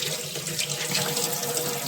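Cold tap water runs steadily into a sink while ginger is washed, a close, continuous splashing rush with no voices.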